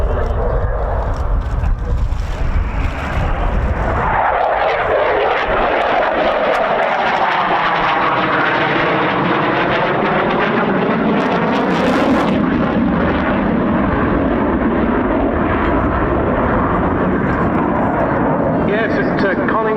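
An RAF Typhoon jet roars past at the Cosford air show, a loud sweeping engine rumble that rises and falls in pitch as it passes, with a commentator talking over it throughout.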